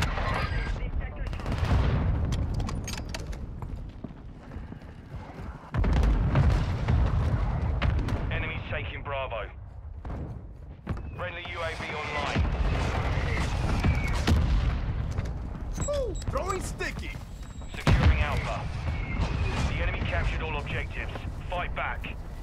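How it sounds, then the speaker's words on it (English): Heavy booming mortar strike explosions and gunfire in Call of Duty Modern Warfare 2 multiplayer, loud repeated blasts and crackling shots with game radio voices speaking between them. "Mortar strike on the way."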